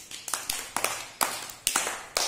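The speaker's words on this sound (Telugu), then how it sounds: "వెరీ గుడ్ క్లాప్స్ కొట్టండి" Children clapping together in a first-grade Telugu classroom, a quick burst of uneven claps, roughly a dozen sharp hits with a few louder accents, close and lively with no voices over them.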